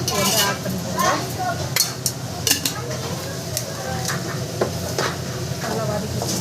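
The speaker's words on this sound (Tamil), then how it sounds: "ஸோ நல்லா வதக்கிக்கோங்க." Chili powder gravy for chicken curry being stirred and sautéed in a pan: a soft sizzle under repeated metallic clinks and scrapes of a spoon against the pan, with a voice talking intermittently.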